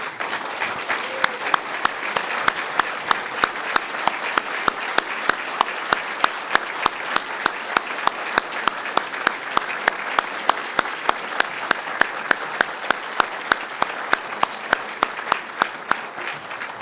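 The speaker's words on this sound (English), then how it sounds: "I think we should applaud this historic moment" Steady applause from a dinner audience at a financial services event honoring the Consul General of Sweden, with continuous dense clapping and a few sharper individual claps standing out at a regular rhythm.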